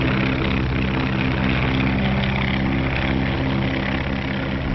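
A 1935 propeller airplane skywriting overhead drones in a loud, steady engine roar with buzzing propeller pulses throughout.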